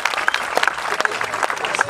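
An audience applauds with steady, dense clapping at a Balinese Calonarang performance, loud and continuous throughout, with a few scattered voices in the crowd.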